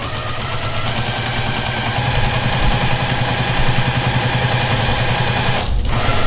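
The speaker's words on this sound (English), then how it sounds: "I'm gonna baste this down with just a really big stitch right on the edge" A sewing machine runs steadily while basting fabric with a long stitch along the edge, a loud, even mechanical whir and rhythmic clatter close by, stopping briefly near the end.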